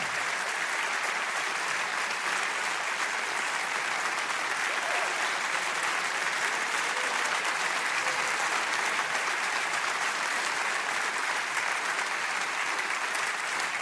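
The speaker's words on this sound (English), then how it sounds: "A standing ovation." A standing ovation for a conference speaker: dense, steady applause from a large crowd, loud and unbroken throughout.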